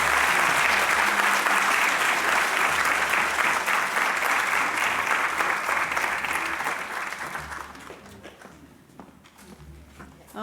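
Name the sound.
audience applause for a conference panel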